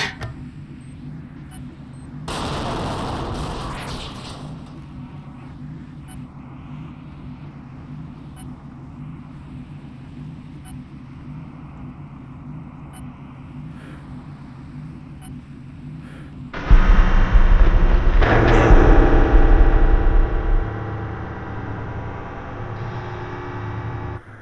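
A bomb in Splinter Cell Chaos Theory goes off as a sudden loud, broad blast that roars for a few seconds, following a long stretch of quieter low droning game ambience.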